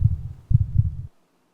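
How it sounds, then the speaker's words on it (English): A cartoon heartbeat effect in an animated story, two loud close lub-dub thumps in quick succession, then silence. "What the heartbeat?"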